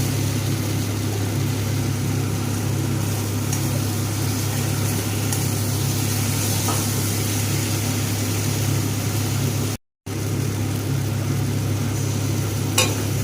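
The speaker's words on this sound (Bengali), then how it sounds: "দিয়ে ভালো করে মশলাটাকে কষিয়ে নেব মশলা থেকে তেল ছাড়তে চালু করে দিয়েছে" Spice masala sautéing in oil for a Bengali snail curry with gourd greens, papaya, potato and aubergine: a steady, fairly loud sizzle with faint scraping over a constant low hum, broken by one brief dropout.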